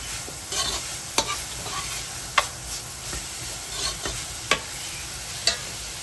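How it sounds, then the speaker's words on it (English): Cabbage and vegetables frying for Guyanese beef chowmein are stirred in a pan, with a steady close sizzle under periodic sharp scrapes of the utensil about every second, no talking. "Keep stirring everything up. And let this cook for a minute or two."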